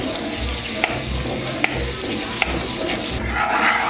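Butter sizzles and fries in a pan of melted sugar over low heat with a steady, bright hiss, broken by a few faint clicks, before the tone shifts near the end.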